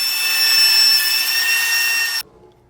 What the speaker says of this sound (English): Then I ran the flat side down through the planer to level the opposite face.